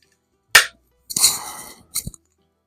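A Webley Nemesis SSP air pistol fires at a turkey target in a garage: a sharp close pop, followed by a brief rattling clatter and a second short snap, with no voices.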